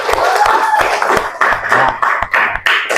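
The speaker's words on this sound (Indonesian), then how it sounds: "Mari kita beri tepuk tangan kepada kelompok 1 dan 2." Students in a classroom clap for two student groups during a problem-based learning lesson, giving a short burst of close, uneven hand claps with faint voices mixed in.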